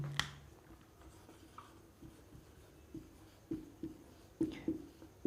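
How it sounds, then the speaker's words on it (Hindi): Short, separate pen strokes as a word is written by hand, quiet scratches and light taps coming in uneven bursts close by. "मैं कोई वर्ड लिख रहा हूं"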